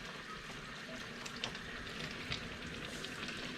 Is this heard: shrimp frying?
yes